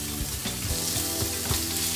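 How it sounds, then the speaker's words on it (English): Garlic and pork sizzling steadily in a frying pan for a vegetable stir fry, a close continuous frying hiss with occasional clicks of stirring. "So the garlic is now cooking up, it's sizzling really nicely."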